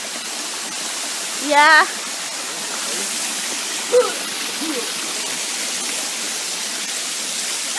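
Steady broadband rush of a waterfall at an outdoor stop on a market day trip, continuous and fairly loud throughout, with a brief voice and a couple of short vocal sounds over it.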